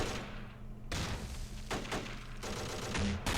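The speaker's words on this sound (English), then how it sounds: "now we've got our entire team firing on them" Gunfire crackles in the Close Combat: Modern Tactics video game, sharp bursts and shots arriving at irregular intervals over a constant low battle drone, fairly loud and close.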